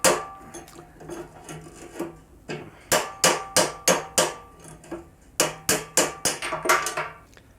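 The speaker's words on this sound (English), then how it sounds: "I am using a claw hammer" A claw hammer strikes again and again in quick, sharp, ringing blows while fitting bearings on a Suzuki RG125 motorcycle, grouped in bursts with short pauses, close and loud.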